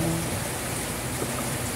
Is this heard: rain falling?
yes